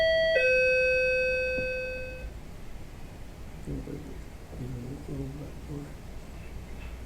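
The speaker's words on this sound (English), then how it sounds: "this is a doorbell" A doorbell chimes loudly at the start, its bright ringing tones fading out over about two seconds, followed by faint murmuring voices in the room.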